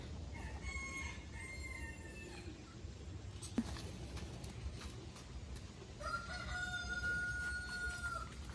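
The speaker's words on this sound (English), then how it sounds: "Chickens." Chickens on a spring farm cluck and a rooster crows in drawn-out calls, moderately distant, with a couple of sharp knocks and low background rumble in between.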